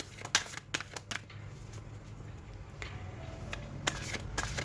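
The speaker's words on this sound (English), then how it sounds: "Your cards don't come out easily when I shuffle" Tarot cards being shuffled by hand, several sharp riffling bursts and flicks spaced irregularly over a quiet room background, close and crisp with no talk.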